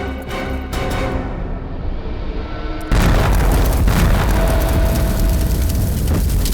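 A bomb goes off in one sudden, very loud blast. A deep, roaring rumble follows and carries on to the end over a broad wall of noise.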